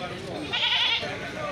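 Billy goats at a crowded livestock market for sacrificial animals bleat in a brief, fairly close cry, with a voice talking underneath.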